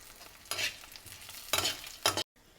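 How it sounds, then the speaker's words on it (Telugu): Green chillies with cumin and fenugreek frying in oil in a pan for a coriander chutney, heard as three short sizzling bursts as the mixture is stirred, with quiet gaps between. "ఇప్పుడు నెక్స్ట్ కొంచెం నూనె వేసుకొని పచ్చిమిరపకాయలు ఫ్రై చేసుకుందాము."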